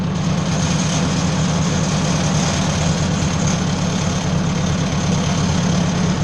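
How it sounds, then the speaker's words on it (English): A tractor engine idles with its fuel supply shut off, a steady, loud low rumble that holds evenly throughout with no voices. "Let her idle until she's out of gas."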